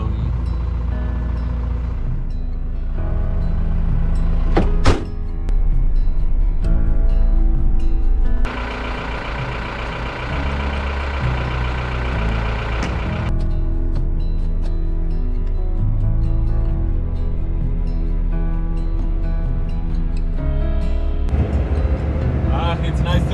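A car drives along roads near Torrevieja's Rosa Laguna, giving a steady engine hum and road rumble heard from inside the cabin, with a few sharper knocks and shifts in the drone.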